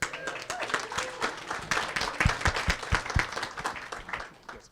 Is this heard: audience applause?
yes